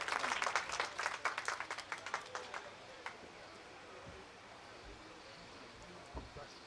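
At a Pakistan Tehreek-e-Insaf foundation day event, an audience bursts into dense clapping that peaks for a few seconds and then fades into a low murmuring hall.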